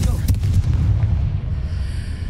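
A fire spell blast from the video game Hogwarts Legacy, a loud booming explosion burst at the start followed by a rumbling decay, with a voice speaking over it.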